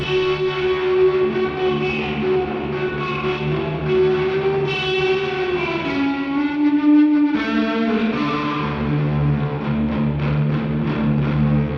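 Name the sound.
delay pedal with quick decay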